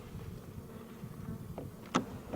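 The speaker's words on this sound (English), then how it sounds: "The bees are up on the top" Honeybees buzz inside an opened beehive: a faint, low, continuous droning hum with a few brief louder buzzes as the hive sections are disturbed.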